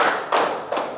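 A classroom of students claps hands on a teacher's command during an Islamic education lesson, giving three close, sharp clap bursts in quick succession.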